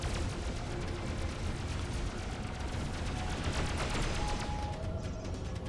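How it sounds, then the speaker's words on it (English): Dense space-combat weapon fire from the Freelancer video game, with a torpedo launch among continuous loud blasts and booming shots that fill the whole span without pause. "Oh, one even shot a torpedo."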